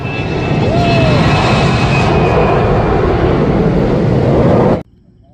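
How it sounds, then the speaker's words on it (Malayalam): A loud, roaring airplane engine surges close by during takeoff at Calicut Airport and holds steady before cutting off abruptly near the end, with a rising whine early on. "take off"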